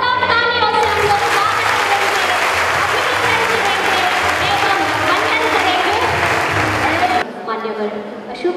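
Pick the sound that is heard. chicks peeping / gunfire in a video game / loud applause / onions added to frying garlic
loud applause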